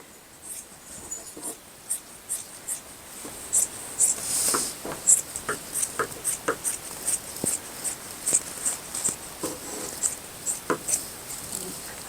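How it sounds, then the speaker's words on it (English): Sharp scissors snip away excess quilt batting in a run of quick, close cuts, each a crisp little crunch with short pauses between, no voices over them. "I'm gonna grab my scissors here, and I'm going to just trim off this excess batting"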